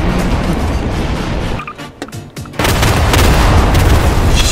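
Loud booming blasts and crackling bursts from a flying bomb in a police chase video game rumble continuously, with a brief dip into quieter clatter before the heavy explosive roar resumes.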